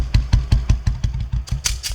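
A motorcycle engine idles nearby with a steady, thumping putter of regular pulses, loud and close, with no talking.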